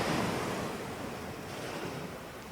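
Ocean waves washing onto a sandy shore, a steady broad surf rush with gentle swells and some wind noise, continuous and fairly close, with no voices.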